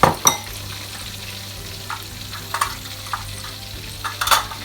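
In a pan for chicken manchurian, ketchup thinned with water and spices go into hot oil and sizzle softly under clinks and scrapes of stirring utensils, with a sharper hiss near the start and end.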